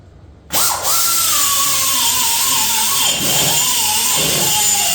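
A power drill spins up sharply and whines steadily while boring into a Harley Big Twin Evo motorcycle frame, close and loud, its pitch dipping twice as the bit bites under load.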